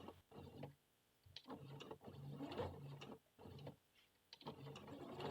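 A sewing machine stitches a doll's skirt fabric around a curve, running in short mechanical bursts of rapid clattering, separated by brief pauses as the fabric is turned bit by bit, heard close and quiet.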